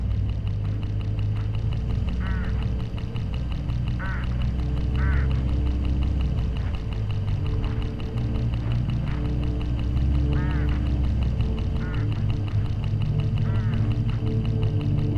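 Hooded crows along a road in the video game Hitchhiker give repeated harsh, honking calls at irregular intervals over a steady low engine drone.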